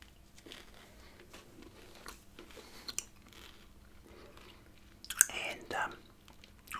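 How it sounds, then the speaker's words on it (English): Wrigley's gum chewed close to the mic in a soft, whispery ASMR setting, with moist crunchy smacks and small bites running irregularly, growing louder and wetter toward the end. "yes, I'll be chewing a bit of gum"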